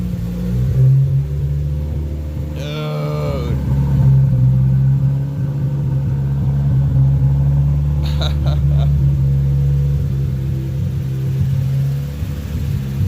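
A 2019 Chevrolet Camaro SS V8 with secondary catalytic converters removed idles with a deep, steady exhaust rumble on and on, with a person talking over it and a couple of brief higher-pitched bursts.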